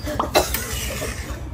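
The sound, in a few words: cough after eating coconut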